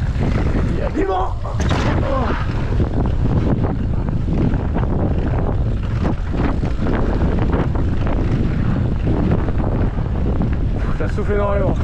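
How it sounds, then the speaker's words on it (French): Strong wind roaring across the microphone at a bike park, a constant heavy buffeting rush that covers the whole stretch, with brief muffled voice fragments under it. "Il y a du vent."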